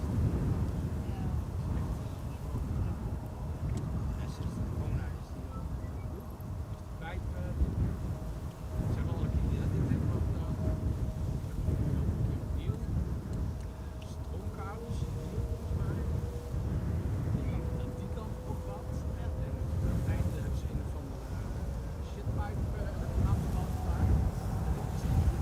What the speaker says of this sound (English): You can probably hear another wide body is taking off from center.